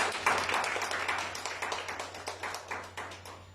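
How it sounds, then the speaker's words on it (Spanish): Church congregation applauding at a worship service, a steady crowd of many hands clapping at moderate distance, fading slightly over a few seconds, with a low steady hum underneath. "Denle un fuerte aplauso, Señor."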